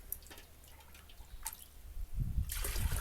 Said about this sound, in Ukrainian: Тут у мене вже 10 літрів води є. Я наливаю